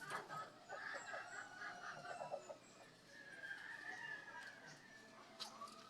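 Backyard bantam chickens cluck and a rooster crows, the calls coming moderately close and fairly quiet amid other fowl noises.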